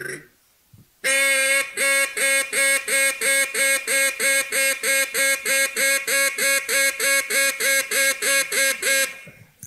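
A handheld duck call is blown close and loud, imitating duck quacks in a fast, steady run of about two dozen evenly spaced quacks with nothing else behind it.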